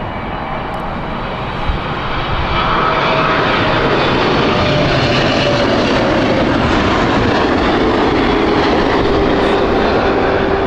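A Johannesburg-bound airliner departs Heathrow with a loud, continuous jet engine roar, dense broadband rumble and a faint tonal whine, steady throughout with no voices.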